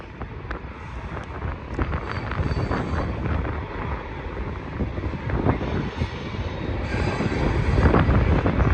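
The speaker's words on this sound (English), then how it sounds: "We have a BNSF Manifest train coming westbound." A westbound BNSF manifest freight train rolls by on the Mojave subdivision on a very cold, windy day, a steady heavy rumble with clanks, buffeted by gusty wind noise that grows toward the end.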